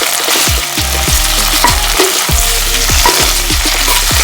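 Shrimp shells cooking in a pot while being pressed down with a utensil: a steady loud sizzle with repeated low scraping thumps against the pot bottom at a roughly regular pace, close up and with no talking.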